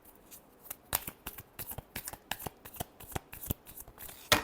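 A deck of cards being shuffled by hand gives a quick run of crisp, riffling flicks and taps, steady and close but fairly soft, with no one speaking.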